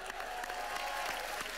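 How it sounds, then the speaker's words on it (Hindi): A studio audience on a Hindi comedy show applauds steadily, a soft, continuous wash of clapping throughout a short burst, heard at a distance. "हमारे शो के असली रॉक स्टार शकील जी के लिए जोरदार तालियां।"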